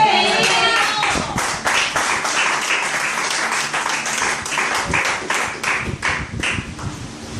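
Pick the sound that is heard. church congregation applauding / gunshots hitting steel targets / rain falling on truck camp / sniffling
church congregation applauding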